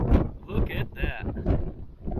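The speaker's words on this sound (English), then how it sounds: "It's a bit windy up here." Gusting wind at a Grand Canyon overlook buffets the microphone in uneven low rumbles beneath someone talking nearby.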